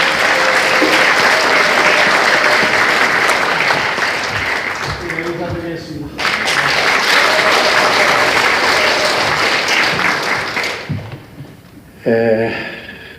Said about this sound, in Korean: 큰 박수 다시 부탁드리겠습니다